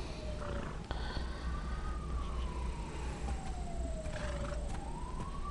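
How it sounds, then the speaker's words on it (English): A wailing siren sweeps up and down in pitch over a low rumble of traffic. "Yo, that siren is pretty close"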